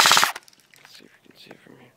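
An Ignite Black Ops M4 Viper airsoft rifle fires a rapid burst of BBs outdoors, a loud rattling volley lasting about a quarter second, followed by faint clicks and quiet talk.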